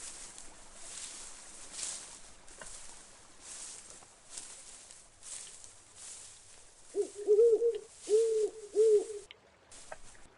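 In the Colossal Cave VR game, an owl hoots in the distance, a series of four soft, low calls in the second half over a faint ambient wash of flowing water.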